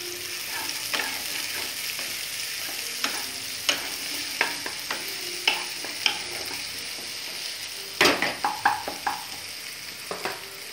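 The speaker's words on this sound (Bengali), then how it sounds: "বেশ কিছুটা পেঁয়াজ দিলাম" Onions fry in a hot pan alongside grated ginger, a constant sizzle punctuated by frequent clattering knocks and scrapes of a spatula stirring, with a cluster of louder hits near the end.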